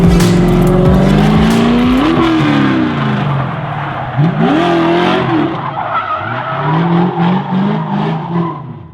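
A C5 Corvette drift car on a track slides sideways in an e-brake maneuver, its engine revving up and down in repeated sweeps over loud, sustained tire squeal, close and alone.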